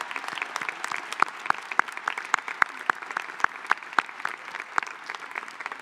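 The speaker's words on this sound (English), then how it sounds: "Please help us give a round of applause to these Transformers." Graduation audience applauding Tri-M National Honor Society students at the Young Women's Leadership Academy class of 2023 ceremony: a moderate, scattered crowd clapping with sharp individual claps standing out over a softer wash.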